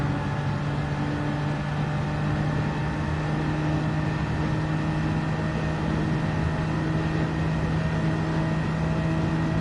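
A race car engine in Gran Turismo 7, running a Manufacturers Cup round at Watkins Glen, gives a loud, steady droning hum that barely changes pitch, with no revving rises and no voices.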